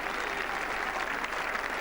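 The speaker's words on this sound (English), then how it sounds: "getting the cheer he deserves" A cricket crowd at Lord's applauding and cheering a departing batsman during a Test match, a dense, steady wash of clapping from a large gathering, moderately distant, without a break.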